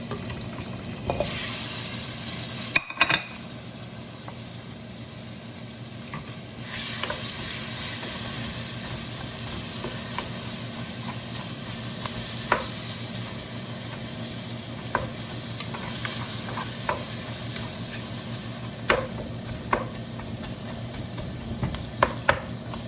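Onion frying with turmeric over high heat for a tomato curry, a constant crackling sizzle under repeated scrapes and clicks of a spoon being stirred through the pan, close and fairly loud, with no talking.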